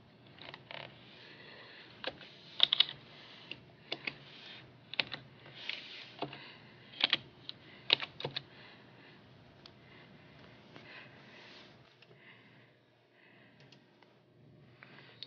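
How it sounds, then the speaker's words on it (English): Typing on a computer keyboard to enter a song name, a quiet run of irregular clicky keystrokes with brief bursts, fading to near silence toward the end. "And you're gonna type in whatever song you want."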